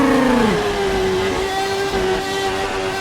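An F1 car engine in the video game Assetto Corsa at Suzuka holds a loud, steady high drone after a quick drop in pitch, the exhaust blowing continuously through the diffuser, with no voices.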